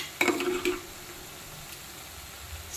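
Ginger garlic paste fries with onions in a pan for a mutton curry, giving a soft, steady sizzle after a couple of quick spoon clinks at the start, close and fairly quiet with no talking.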